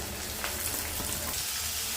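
Chopped vegetables hit hot oil over fried onions for upma, giving a loud, steady sizzle with soft stirring scrapes throughout, no voices.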